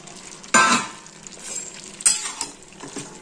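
Ash gourd frying in a pan for hilsa head ghonto being stirred, with scraping strokes and clinks over a steady sizzle, two strong stirring bursts standing out.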